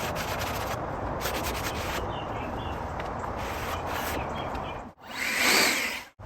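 A power sander running over an ash butcher block countertop, a loud steady grinding whir close by that cuts out briefly and then surges back up.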